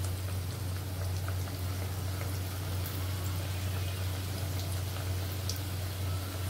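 Pumpkin pieces frying in hot oil, a constant dense crackling sizzle with a steady low hum underneath, unbroken throughout with no voices.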